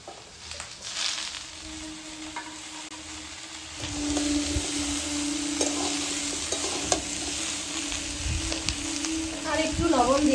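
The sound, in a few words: vegetables including pointed gourd and drumsticks frying and being stirred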